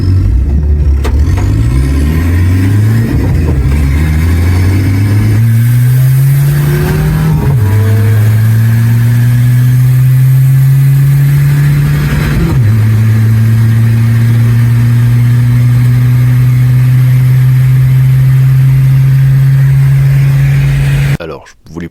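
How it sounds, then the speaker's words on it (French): A Citroën C15 with a cooling system that leaks water accelerates hard at a Breizh Run event, the engine loud and close. It climbs through several gear changes, then holds a steady high drone at speed. Someone talks over it. "on est déjà à 140 au bout de 400 mètres avec le C15"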